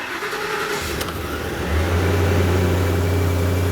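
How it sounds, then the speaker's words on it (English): A 2008–2010 Ford F-250 with a 5.4L engine cranks briefly, then catches and settles into a steady, loud idle close by after a new fuel pressure sensor is fitted, with no talking. "if you turn the key to start it, it should start. It might stumble a little bit as it tries to build up that fuel pressure"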